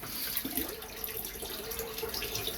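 Razor head rinsed under a running tap, a steady splashing hiss of water over the whole short stretch, moderately faint with no talk.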